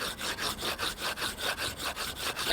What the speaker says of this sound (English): Take the stones you've been working on and you rub them together.